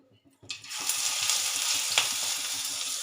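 Onion-flower and cauliflower pakoras fry in hot oil, a steady, close sizzle with a bright crackle that starts suddenly after a brief quiet moment and holds evenly to the end.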